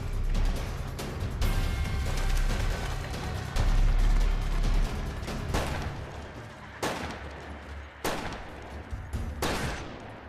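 Gunfire in a war-movie town shootout, dense overlapping shots and bursts at high level, with sharp separate cracks standing out in the latter half, no talking.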